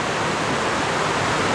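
A small stream pours down into a creek at Seven Tubs Nature Area near Wilkes-Barre, Pennsylvania, giving a steady, close, full rush of water with no pauses and no voices.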